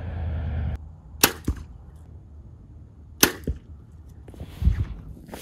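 A bow fitted with a gyroscope shoots arrows, giving sharp snapping releases with a quick twang: two near shots, each followed by a second crack, and a softer thump near the end in a quiet room.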